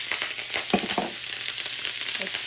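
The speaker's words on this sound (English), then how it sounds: "It's sizzling that way because there was water in the bowl." Loud, steady sizzling and crackling of wet, freshly washed Brussels sprouts frying in a hot pan, with occasional scraping stirs, continuous throughout.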